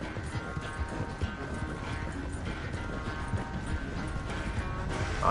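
A horse in Red Dead Redemption 2 gallops with a steady, dense run of hoofbeats under continuous game noise, close and fairly loud throughout.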